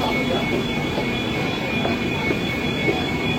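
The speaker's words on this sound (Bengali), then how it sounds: "আমি নামার সঙ্গে সঙ্গে একটা ট্রেন এসে হাজির" A Kolkata Metro train arriving at a station on the line toward Dakshineswar, heard as a steady, loud rumble of rolling carriages with a faint high whine, continuous across the few seconds.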